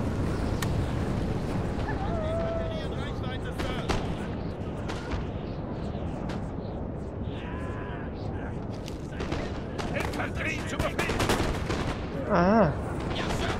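Musket gunfire and artillery from a Napoleon: Total War battle, with dense continuous crackling volleys and booms under steady wind-like noise, with someone talking briefly.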